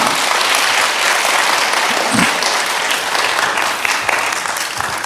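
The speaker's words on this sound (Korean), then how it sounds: "박수로 맞이하겠습니다" Audience greets a retired professor with loud, sustained applause, a thick wash of many hands clapping continuously with slight swells, close and enveloping.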